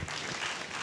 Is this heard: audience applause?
yes